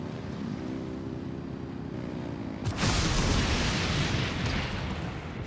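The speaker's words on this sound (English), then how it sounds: "Rev the engines!" Engines revving in Genshin Impact during Natlan questing: a steady low drone that swells into a louder, broadband roaring surge partway through, sustained to the end without speech.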